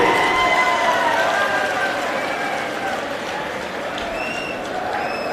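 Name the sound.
audience applause for Punjab chief minister Bhagwant Mann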